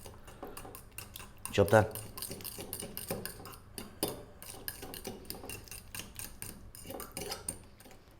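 A spoon mixing tomato paste into pizza sauce, with scraping and clinking against the bowl, one loud clatter early on and lighter taps after, and a voice speaking briefly.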